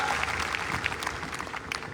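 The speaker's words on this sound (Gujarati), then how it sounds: "તેમના સમર્થનને આપણે તાળીઓના ગણગણાટથી વધાવી દઈશું." A Kshatriya community gathering in Bharuch breaks into brief applause, a moderately loud patter of many hands with voices mixed in.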